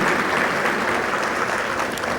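An audience claps loudly and continuously at a kindergarten graduation, a dense wash of steady applause that holds throughout.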